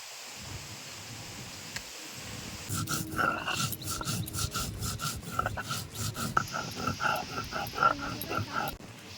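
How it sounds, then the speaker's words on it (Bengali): Whole cumin seeds are ground by hand on a grinding stone, a rhythmic rasping scrape of stone on stone that starts after a quiet moment and carries on steadily, close and moderately loud. "প্রথমে বেটে নেব গোটা জিরে"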